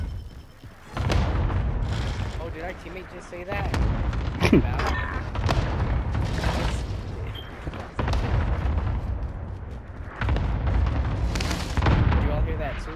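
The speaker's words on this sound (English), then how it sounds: "Cluster strike is active." Cluster strike explosions in Call of Duty: Modern Warfare rumble in a dense, continuous barrage of booms, with heavy surges throughout, while players talk over the noise.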